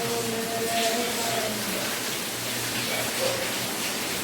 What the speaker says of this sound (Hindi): बारिश झमाझम हो रही है